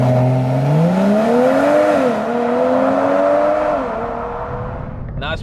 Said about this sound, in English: Put it into Sport Plus, put your foot on the brake, slam the accelerator to the floor,